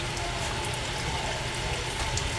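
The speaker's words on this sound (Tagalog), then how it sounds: "Pasensya na kayo, nag-iingay ang water pressure tank namin." A household water pressure tank runs noisily, giving a steady, continuous broadband rush with a low rumble underneath, constant throughout without pause.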